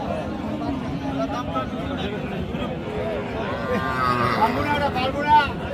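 A Sahiwal cow lows at Raniganj cattle market in Dinajpur, a drawn-out moo rising near the end over a constant din of crowd chatter and nearby voices.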